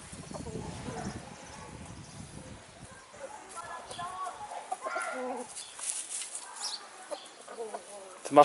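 Three hens cluck softly and intermittently in a backyard setting, fairly faint against quiet outdoor background noise.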